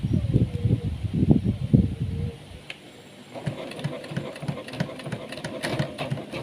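A second-hand sewing machine with hard-to-set thread tension clatters in quick, uneven bursts, pauses briefly, then resumes with a steady rhythmic chatter close by.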